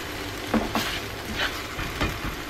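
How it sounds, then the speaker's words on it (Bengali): Spices and ingredients fry in a pan for an egg and cauliflower curry, a soft close sizzle broken by a few scraping stirs of a spoon. "এখন সবগুলো উপকরণকে ভালো করে ভুনা করে নিতে হবে।"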